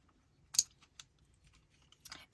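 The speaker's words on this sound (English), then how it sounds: "So all I'm doing is just taking a tape runner" A handheld tape runner laying double-stick tape on a paper sunflower embellishment, heard as a few quiet, close, crisp clicks and short rasping pulls separated by silence.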